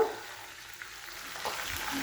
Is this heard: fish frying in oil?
yes